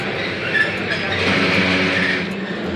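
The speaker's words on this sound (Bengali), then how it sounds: "এই মুহূর্তে আমরা প্রবেশ করতেছি জয়দেবপুরের রেল স্টেশনে" Jamalpur Express train pulling into Joydebpur railway station, heard from on board as a loud, steady rolling rumble with faint rattling that holds evenly through the whole stretch.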